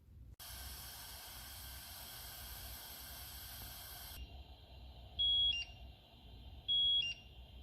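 Cookeo multicooker running a quick-cook cycle: a steady high steam hiss for several seconds, then it stops, leaving a quieter hum broken by two short electronic beeps.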